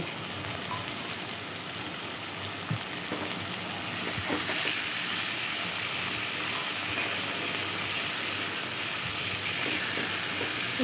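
Pond fish fried in hot oil in a kadai, giving a steady, dense sizzle with a soft hiss that runs unbroken and close by, with no talking.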